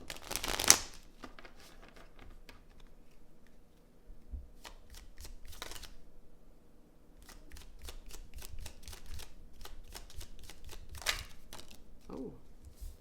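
Tarot cards being shuffled at a reading table, a run of quick, papery riffles and taps going on steadily at close range, with a soft voice briefly at the end.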